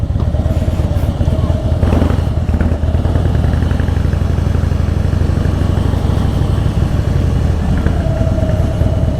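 Harley-Davidson Fat Boy motorcycle engine running nearby, a loud, steady low rumble with a throbbing V-twin pulse that holds constant for about nine seconds, with no talking over it.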